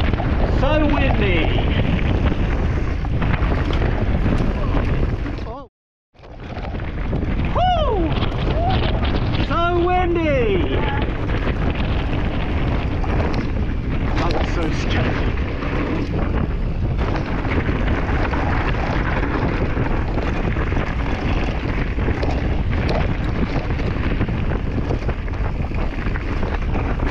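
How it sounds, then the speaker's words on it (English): Heavy wind buffets the microphone with loud, constant low roaring, briefly cutting out once, while shouted voices break through now and then, on a mountain bike ride at Poldice Mine. "So windy!"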